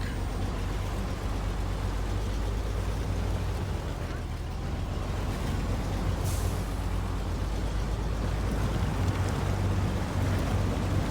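SnowRunner truck engine straining in swamp mud, a low steady rumble that lugs and surges without letup, loud and close, with air-brake-like hisses in a game setting.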